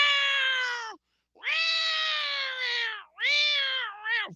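A human voice imitates stray cats fighting on a backyard fence, producing three drawn-out, wavering yowls with a short gap after the first, loud and close with no other talk.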